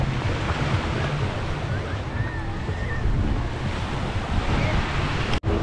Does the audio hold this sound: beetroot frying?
no